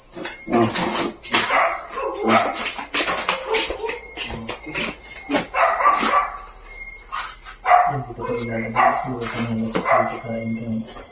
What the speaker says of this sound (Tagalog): Kapag tumahol na yung aso.